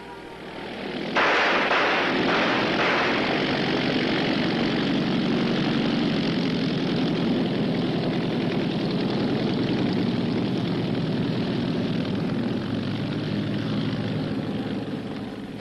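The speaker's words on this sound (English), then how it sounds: "Was that a Nazi plane?" Propeller aircraft engine of a Nazi plane in a 1942 Sherlock Holmes film: a sharp burst opens onto a sustained, loud droning roar that holds for over ten seconds before easing slightly.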